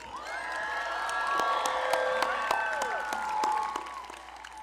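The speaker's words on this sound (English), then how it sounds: "How about another round of applause for our graduates?" Applause for graduates at a high school graduation ceremony in a large hall, a broad crowd clapping steadily with scattered cheers and whoops, sustained throughout.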